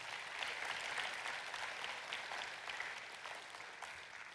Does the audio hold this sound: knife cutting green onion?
no